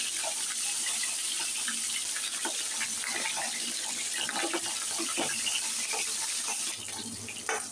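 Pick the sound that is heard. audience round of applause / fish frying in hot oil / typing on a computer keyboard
fish frying in hot oil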